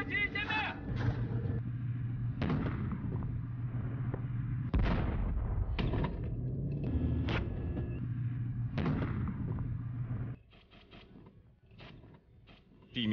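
An armored combat vehicle fires during a live-fire assessment while advancing across a military training ground. Heavy booming shots land over the steady rumble of the vehicle's engine and tracks. Radio voices talk throughout.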